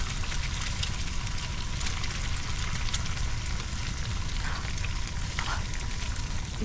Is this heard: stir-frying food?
yes